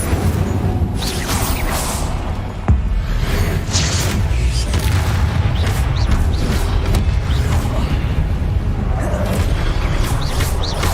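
Spell effects from Hogwarts Legacy, the Incendio fire spell: a continuous loud rush of whooshing, crackling magic with scattered thumps and clanks running throughout, with no clear gaps.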